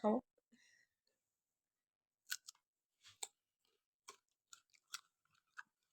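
A family crunches on guava fruit up close, a brief voice opening the moment before scattered crisp bites and chewing clicks arrive in an irregular rhythm.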